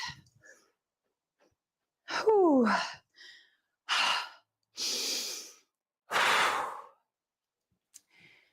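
Heavy breathing during rest between workout sets: a handful of separate loud, breathy exhalations and sighs spaced about a second apart, close to the mic, with one rising gasp-like breath early on and no talking.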